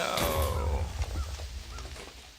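A creeper exploding and blasting a door off in Minecraft: a loud, deep boom at the start that rolls into a low rumbling tail and fades over a couple of seconds.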